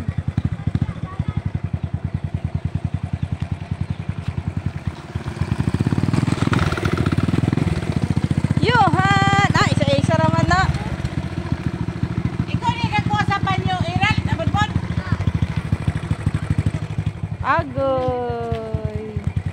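A motorcycle engine putters steadily nearby, revving louder for a few seconds, while people talk and call out over it.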